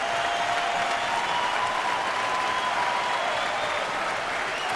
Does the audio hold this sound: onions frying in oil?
no